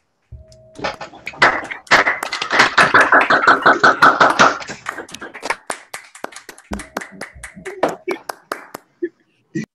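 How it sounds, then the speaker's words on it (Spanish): Online audience clapping for a professor at a colloquium, scattered claps from many open microphones building into dense applause, then thinning to a few isolated claps at the end. "Por favor, abren su micrófono, muchachos, y démosle un aplauso al profesor."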